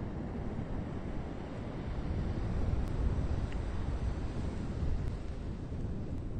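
Atlantic surf and strong wind roar steadily on a cold Fire Island beach in winter, a dense, continuous rumble buffeting the microphone with no breaks or talk.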